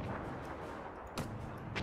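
Howitzer fire from a battery of three guns in the World War One strategy game Between Empires, two muffled, distant thumps amid low rumbling battlefield ambience.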